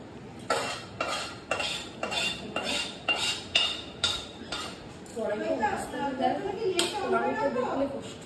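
A metal utensil scrapes and clinks rhythmically against an aluminium kadai while biryani is cooked, about a dozen sharp strokes in quick succession, followed by voices talking over softer kitchen clatter.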